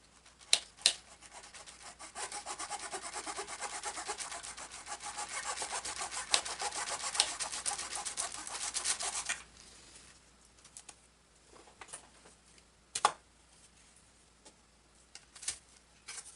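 Rasping back-and-forth strokes from cutting a plywood piece for a model airplane build on floats, steady for several seconds, then a few scattered taps and scrapes; no talking.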